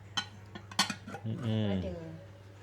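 Sharp clinks of plates and cutlery ring out a few times, close by, followed by a person talking.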